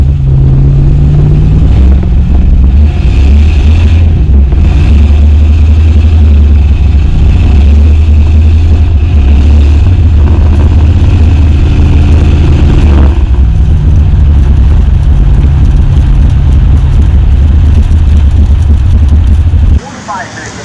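Loud V8 engine in a Chevrolet S-10 truck, exhaust cutout open, rumbling steadily with low throbbing idle and brief revs throughout, cutting off abruptly near the end.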